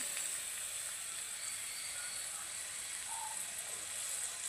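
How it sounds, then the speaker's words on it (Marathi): Food frying in a pan as its water cooks off gives a steady, bright sizzle and hiss that runs evenly throughout, fairly close and with no one talking. "आता यातलं पूर्णपणे पाणी आपल्याला संपेपर्यंत हे अशा पद्धतीने फ्राय करून घ्यायचे"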